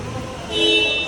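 A Tata Punch car horn is sounded once in a service workshop, a short steady toot lasting under a second over background hum.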